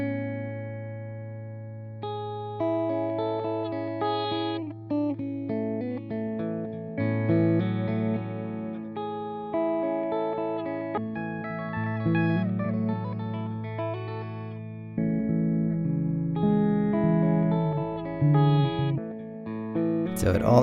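A guitar runs through the grain effect of a Walrus Audio Qi Etherealizer pedal, giving shimmering, layered sustained notes and chords with granular, reverberant textures swelling and shifting over about twenty seconds, with no talking over it.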